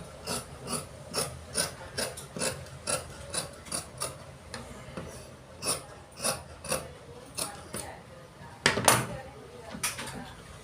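Scissors snip through chudithar fabric while cutting a neckline, in a steady run of sharp, evenly spaced clicks, close up, with one heavier crunching cut near the end.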